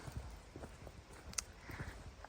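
A horse walks with soft, irregular hoof clops on the ground, faint and somewhat distant, with a sharp click or two and no talking.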